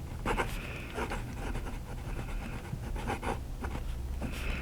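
WingSung 629 fountain pen with a fine nib scratching across paper, soft close strokes in irregular bursts over a steady room hiss, no talking.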